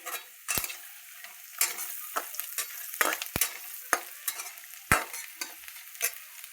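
Poha frying in a pan with turmeric and salt, stirred by hand: a steady low sizzle broken by sharp spoon scrapes and clinks against the pan every second or so, close and fairly quiet, with no talking.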